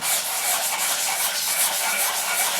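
A 120-grit abrasive works over an English walnut HW80 air rifle stock, giving a steady, close rubbing hiss with a rotary sanding motion, continuous and even, without pauses or voices.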